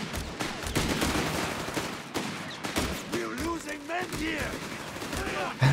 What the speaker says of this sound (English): Man, this volleyed rifle fire.